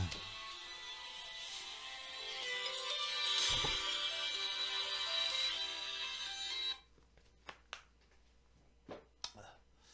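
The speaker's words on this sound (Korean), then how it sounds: "잠깐 지금 전화가 왔는데" Phone ringtone from an incoming call rings steadily and fairly loud for about seven seconds, then cuts off, leaving a few faint clicks and taps.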